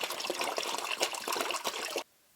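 Water is poured into the coolant system of a Land Rover LR3 with a 4.4L V8, making a close, steady splashing trickle for about two seconds before stopping suddenly.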